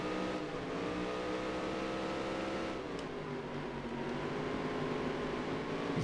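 Dirt track race cars roaring in NASCAR: Dirt to Daytona, a steady, loud engine drone with layered revving tones holding throughout, no talk over it.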